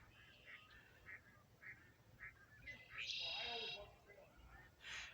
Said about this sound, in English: And I hear ducks.